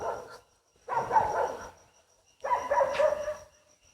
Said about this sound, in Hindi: एक तो कुत्ते की आवाज़ आई